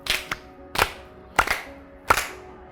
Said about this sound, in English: And then you clap your hands 4 times.